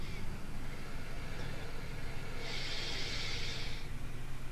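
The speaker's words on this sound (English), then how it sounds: "taking the first deep breath in" A long, soft, airy inhalation of a deep breath during a guided breathing exercise, steady and close over a continuous low background noise.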